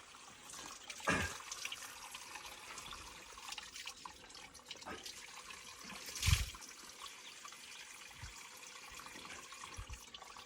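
Spring water from Bəybulağı, fed from the mountains, trickling and splashing in a quiet continuous stream, faint and distant with a couple of brief louder splashes.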